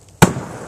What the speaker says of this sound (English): Gives you an idea of the force of the bamboo popping.